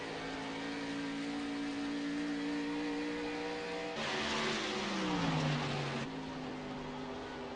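Race cars lapping the Monster Mile oval at speed, a steady engine drone with a louder car sweeping past midway and its pitch dropping as it goes by, with no talk.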